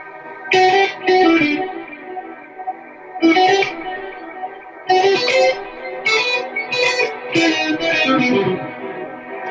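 Electric guitar runs through effects pedals and a looper, bursts of strummed chords with gaps between, distorted and modulated, fairly loud and without talking.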